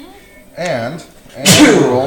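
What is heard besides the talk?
a sneeze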